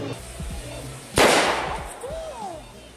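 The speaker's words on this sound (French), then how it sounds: "Il faut lancer un palet qui doit faire exploser des pétards au centre de la cible." A single sharp firecracker bang from a tejo target, the traditional Colombian throwing game, bursting loud and close over outdoor crowd chatter, followed by a short decaying tail.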